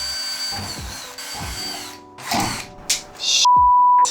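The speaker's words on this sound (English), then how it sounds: "I'm going to use the tiniest drill bit." Short bursts of a small power drill with a tiny bit whirring, starting and stopping several times, close by, ending in a steady high-pitched spin.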